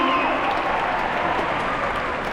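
Steady crowd applause with some cheering at a Rock and Roll Hall of Fame induction, sustained and fairly loud throughout, with no pauses or talking.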